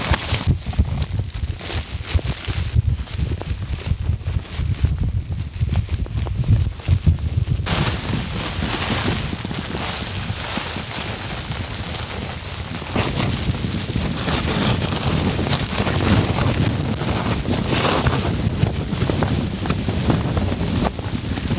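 Strong blizzard wind batters a winter tent camp in steady, loud, roaring gusts that rush and flap against the tent fabric throughout, with no voices.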